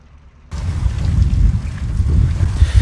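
Strong wind roars around a narrowboat on a canal, a loud, gusting low buffeting that bursts in suddenly after a quiet moment and keeps surging.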